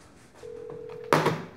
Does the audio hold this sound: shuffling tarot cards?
no